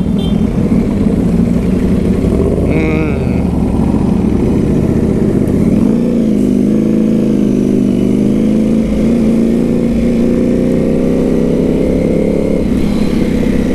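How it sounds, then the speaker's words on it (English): A group of superbikes rides through Manhattan, New York at night, their engines droning and revving steadily and loudly throughout with a rising pitch, alone without talk. "this is a rarity to see that many bikes like this in Manhattan"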